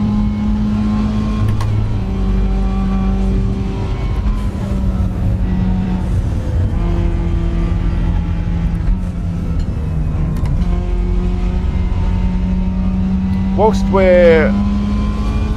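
Mazda race cars in the RaceRoom racing game hum and whine steadily through gear changes, their engine tones rising and falling continuously beneath someone talking throughout.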